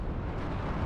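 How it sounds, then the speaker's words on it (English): A brief, muffled artillery explosion in the real-time strategy war game WARNO, a low rumbling boom heard alone at moderate loudness. "we shot something here with our artillery"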